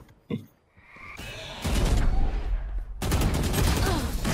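Loud bursts of rifle fire on the Breeze map in Valorant ranked play, an opening shot and then sustained rattling volleys close up, with a brief lull before heavier shooting.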